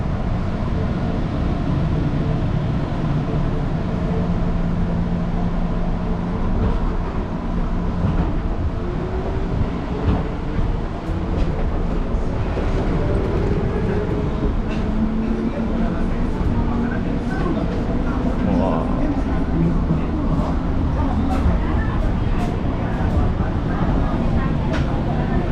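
Interior of a commuter train in Jakarta in motion, with a steady low rumble and rolling wheel noise under continuous cabin hum, while people talk over it.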